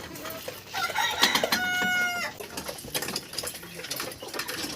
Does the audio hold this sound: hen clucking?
yes